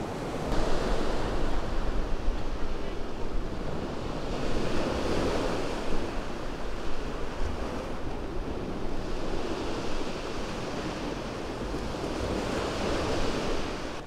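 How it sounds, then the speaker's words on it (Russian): Steady roar of Black Sea surf at Yalta, Crimea, waves rolling and washing continuously in cool weather, a blustery wind rumbling over the microphone throughout, no voices. "Ну какой шум моря!"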